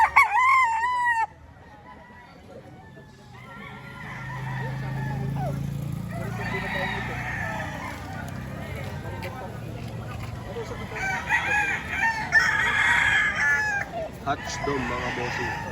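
Green-legged chickens in a Lipa, Batangas poultry yard, with a rooster crowing loudly near the start and hens clucking throughout, under someone talking.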